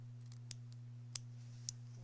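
Scissors trimming quilt block fabric for a Splendid Sampler 2 quilt-as-you-go block, three faint, crisp snips spaced about half a second apart over a steady low electrical hum.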